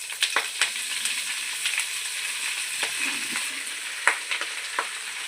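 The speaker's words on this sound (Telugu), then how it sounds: "ఇదే బాండీలో మళ్ళీ కొద్దిగా శనగ నూనె వేసుకొని మునగాకు కూడా మగ్గించుకోవాలండి" Moringa leaves sautéing in a little peanut oil in a pan, giving a steady close sizzle with sharp crackles and spatula scrapes stirring through it, no voices.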